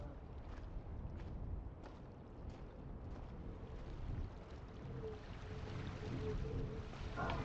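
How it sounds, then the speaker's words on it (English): Steady, rushing wind fills an outdoor area of a video game, a continuous broadband whoosh with faint soft thumps in the background and no voices. "this is wind sound"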